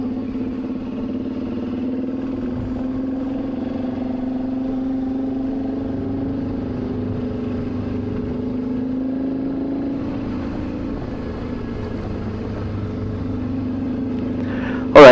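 A motorcycle rides steadily along a narrow tarmac road through a tunnel of trees in Sardinia, its engine a constant close drone throughout, with a brief louder burst at the very end.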